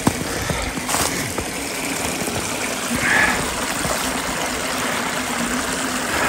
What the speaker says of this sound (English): this creek's up a little bit because we had quite a bit of rain a couple of days ago